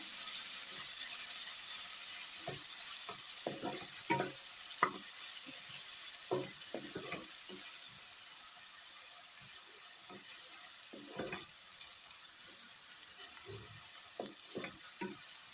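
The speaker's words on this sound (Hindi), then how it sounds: "प्याज को थोड़ी देर के लिए भूनूंगी मैं।" Onions fry in a pan with a soft, steady sizzle, broken up by irregular scrapes and clinks of a spoon stirring against the pan.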